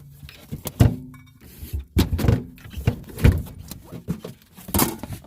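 A spare tire is shoved and lowered into the trunk of a 2018 Honda Civic Si, giving several hollow thumps, knocks and rubbing scuffs at an irregular pace, close and fairly loud.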